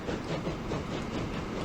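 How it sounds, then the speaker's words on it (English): A train rolls along the tracks in the Transport Fever 2 video game: a steady, continuous rumble with rail noise, constant in level and with no voices over it. "That train's just made a delivery of fuel on the right hand side there."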